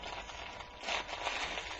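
Crinkly crackle material rustles inside a soft toy cube on a textured baby toy, a faint, steady papery crunching that swells a little midway and continues without talk.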